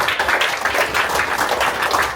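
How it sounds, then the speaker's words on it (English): A room of guests at a First Holy Communion celebration claps for a girl's recited verse, steady, loud, overlapping applause from many hands close by with no pause, alone throughout. "One round of applause for this lovely verse that she said here"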